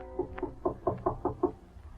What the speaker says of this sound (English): Her father knocks at the door.